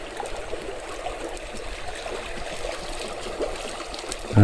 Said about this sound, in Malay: Air sini laju.